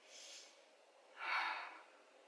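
A deep breath drawn in during a pelvic floor stretch, heard as a soft, airy inhale that swells to a fuller rush of air, close and quiet, with a fainter breath just before it and no talking.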